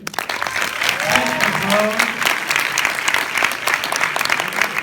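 A film premiere audience welcomes actors Marion Cotillard, Léa Seydoux and Gaspard Ulliel with dense, sustained applause, loud and steady throughout, with a voice briefly rising above the clapping.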